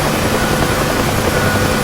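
The UH-1H Huey helicopter in DCS World gives a loud, close, continuous rotor and turbine roar that holds steady through the moment, with no voices.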